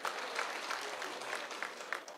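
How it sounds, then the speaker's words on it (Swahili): A small crowd claps for a Senior Chief at a public security forum in Mbale, Vihiga County, a short, faint, steady patter of applause heard from a distance. "Asante Senior Chief, apigiwe makofi afadhali."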